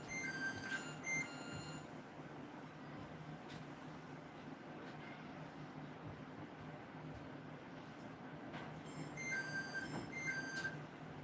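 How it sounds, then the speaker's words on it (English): Kitchen timer in a trailer kitchen going off, bursts of repeated high electronic beeps at the start and again near the end, faint over a low steady background hum. "my timer's going off here"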